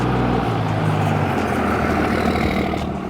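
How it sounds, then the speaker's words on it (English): A very loud pickup truck with an oversized exhaust rumbles past on a street in a new-home neighborhood, a heavy, steady engine drone that stays close and loud throughout with no one speaking. "as a very loud pickup truck goes by me"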